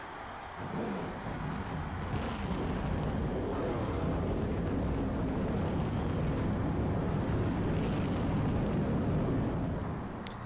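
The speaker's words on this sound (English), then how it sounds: "start your engine." Race car engines starting and roaring together in NASCAR Thunder 2004, a loud, dense, continuous rumble that swells in quickly and holds steady throughout.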